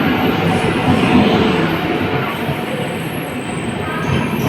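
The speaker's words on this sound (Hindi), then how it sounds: "सो गाइस ट्रेन आ चुका है, देखिए ये ट्रेन से हम लोग कल्याण जाएंगे।" A passenger train pulling into a station in India, bound for Kalyan, with a steady rumble of wheels on rails and some faint metallic squeal, sustained and fairly loud throughout.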